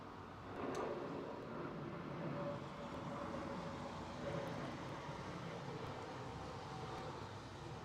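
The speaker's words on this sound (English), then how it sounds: "While Lufthansa A320 Neo is taking to the skies as well." A Lufthansa Airbus A320neo taking off at London Heathrow, heard as a steady, moderately distant engine roar that holds evenly throughout.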